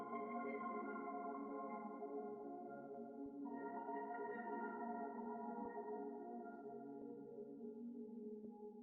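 A sustained synth pad plays chords in a higher octave for an ambient melody, holding soft layered tones with a chord change midway, steady and alone throughout.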